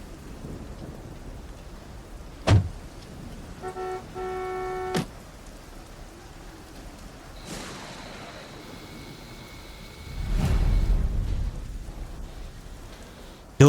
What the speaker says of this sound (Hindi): देखो बाहर कितनी बारिश हो रही है।